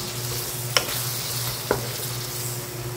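Peeled, washed small shrimp sizzle in a pan for bitter melon stir-fry with glass noodles and snow peas, a steady hiss with two sharp utensil clinks against the pan, no talking.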